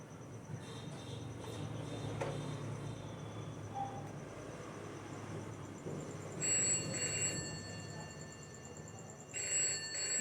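A telephone bell rings in two trilling bursts, heard at a distance over a low, steady background rumble.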